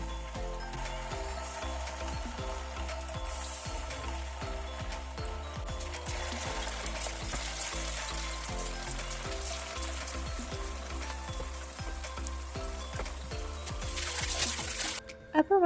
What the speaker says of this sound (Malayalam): അങ്ങനെ ഓയിലൊക്കെ ചൂടായതിന് ശേഷം നമ്മൾ ചിക്കനൊക്കെ ഇട്ടൊന്ന് ഫ്രൈ ചെയ്യുന്നുണ്ട്.